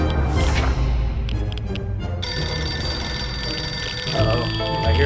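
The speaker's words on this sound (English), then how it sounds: "I hear a ringing phone." A telephone rings in the 60 Seconds video game, its bright sustained bell tone entering partway through and continuing steadily over a busy, loud game soundtrack.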